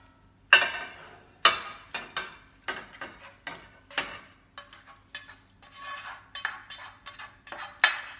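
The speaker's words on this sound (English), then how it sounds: "you're gonna put the mixture in the bottom of the pan" A utensil scrapes and clinks against a 9 by 13 baking pan as a mixture is spread across the bottom for a sweet potato shepherd's pie, a series of sharp irregular taps and scrapes, close and alone.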